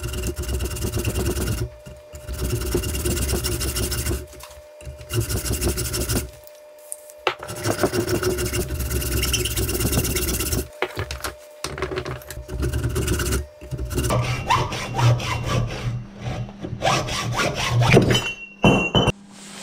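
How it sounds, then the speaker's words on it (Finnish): Rapid back-and-forth strokes of a hacksaw grind through a metal moped wheel hub in long bursts with short pauses, close and loud, the pitch rising near the end. "No niin, nyt on sahattu halaakin tämä napaa"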